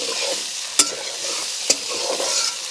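Neem leaves and potatoes frying in a pan for a village-style neem chhitki, a continuous close sizzle broken by two sharp scraping stirs of a spatula.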